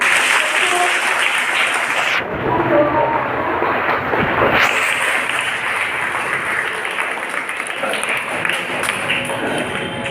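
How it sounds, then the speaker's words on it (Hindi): Applause from an audience at a school uniform and study-material distribution ceremony, a steady loud wash of clapping lasting about ten seconds with a brief dip partway through. "जरा जोरदार हो जाए तालियां"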